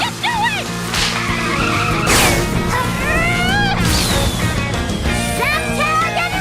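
Cartoon truck braking hard, with a burst of tire skid and screech around the two-second mark over a busy animated soundtrack of whistly tones and effects, the skid loud and up close.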